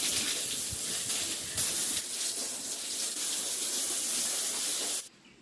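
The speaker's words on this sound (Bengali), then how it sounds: "এখন আমরা ধুয়ে দেওয়ার চেষ্টা করব।" Water gushes steadily across a cattle shed floor as it is washed down after bleaching powder was spread, a loud continuous hiss and splash that stops abruptly near the end.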